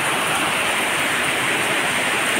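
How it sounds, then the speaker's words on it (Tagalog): Heavy rain pours in a dense, unbroken hiss, loud and close like a downpour, steady throughout with no breaks and no voices. "Ulan jud partag jud kayong kusuga."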